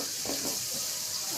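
Cabbage roasting in an oiled pan, a bright continuous sizzle with a faint stirring scrape, close and steady for a brief moment.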